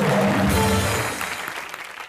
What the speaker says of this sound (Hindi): जोरदार तालियां शाहिद के लिए